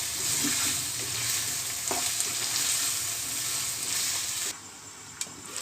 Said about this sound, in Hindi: इसे अच्छे से मिक्स करके 2 मिनट तक पकाऊंगी मैं